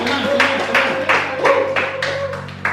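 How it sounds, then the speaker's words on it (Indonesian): Students in a classroom clap for a group of classmates, a run of sharp hand claps in uneven bursts close by, with a steady tone and background murmur underneath. "tepuk tangan untuk kelompok 1 dulu"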